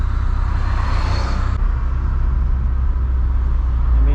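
Garrett turbo on a 750 bhp Cupra running on a first break-in drive, a steady engine rumble with a broad hiss that swells and then drops back, heard from inside the car with no talking.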